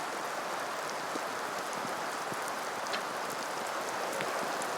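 Steady rain falls in a soft, even hiss, with faint scattered drops pattering on a surface, during an outdoor recurve archery match in Berlin.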